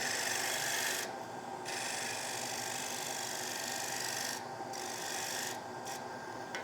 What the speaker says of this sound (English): I come in using that side wing and just do a scraping cut